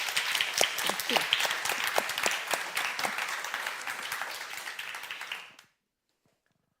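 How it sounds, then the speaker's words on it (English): An audience applauds conference panelists at an energy cooperation event, steady dense clapping that swells then fades out abruptly into silence. "Let's give a round of applause to our panelists."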